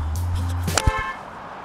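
A car horn gives one short honk on a golf course, loud and close, with a brief click or thud just after it and no talk.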